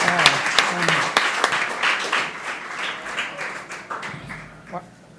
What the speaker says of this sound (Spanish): denle fuertes palmas por la vida